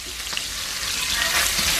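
Bacon frying in a pan for a cabbage, pork chop and gravy dish, a close, steady crackling sizzle with small pops throughout and no talking.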